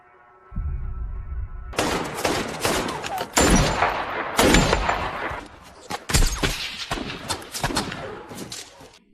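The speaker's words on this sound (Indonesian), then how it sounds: "Inilah tembakan pertama sniper untuk pengintai Taliban" A burst of close, loud gunfire from a film battle scene, with sniper rifle shots and rapid volleys, echoing in the open.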